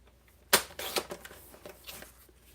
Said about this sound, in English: We'll trim it in a little tighter here.